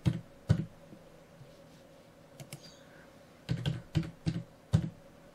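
Computer keyboard typing while working in TinkerCAD: a few sharp clicks near the start, a couple of isolated taps in the middle, then a quick burst of four keystrokes toward the end, close and fairly quiet.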